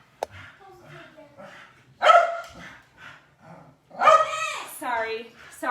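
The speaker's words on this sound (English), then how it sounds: "Tommy, please turn that off so he doesn't bark" A dog barks a few times indoors during an at-home glute workout, the short sharp barks spaced a couple of seconds apart and mixed with voices in the room.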